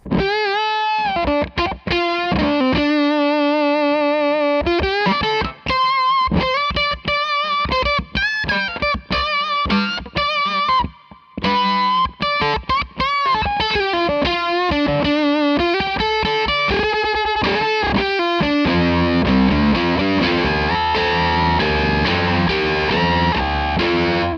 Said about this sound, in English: What I also prefer with this pedal and every Octave fuzz pedal is using it with an overdrive pedal.